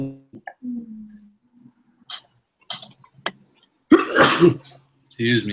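A single sharp sneeze bursts out loud and close, with people talking quietly just before and right after it.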